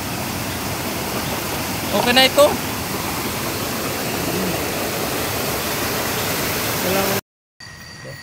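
A swollen, high river rushes past as a steady broadband roar for about seven seconds, with a brief voice speaking over it partway through, before the sound cuts out sharply near the end.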